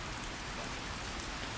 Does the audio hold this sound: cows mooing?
no